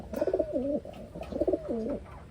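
A white flight pigeon coos in two rolling, warbling phrases, close and clear, with a faint background hum and no talking.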